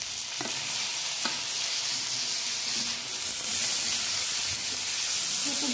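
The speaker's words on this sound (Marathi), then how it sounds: "हे खूप चांगले परतून घ्यायचे आहे." Chopped tomatoes frying with green chillies in a pan for spicy vermicelli, a steady bright sizzle and hiss throughout, broken by a few faint spoon scrapes and stirring knocks.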